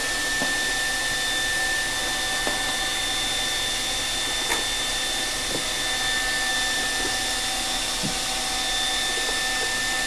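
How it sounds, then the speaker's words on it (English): A hair dryer blows steadily for the whole stretch, a loud constant whooshing drone with a faint high whine and a few small knocks. "We stopped talking the minute the hair dryer went on."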